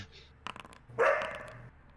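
Dogs in a tabletop game scene bark several times, a few sharp yaps followed by a louder, longer bark and growl, close and without speech over them.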